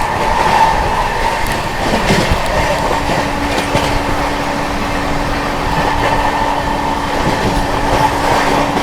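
The Howrah Rajdhani train rolls slowly along the rails, with steady rumble and rhythmic clickety-clack from inside the carriage, loud and continuous, with a faint sustained tone running through the middle.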